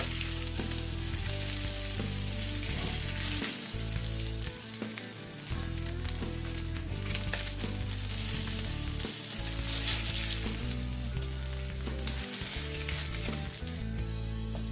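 Eggplant frying in a pan of oil for seafood kare kare, a loud, continuous sizzle with crackling texture and occasional stirring, heard close up with no talk.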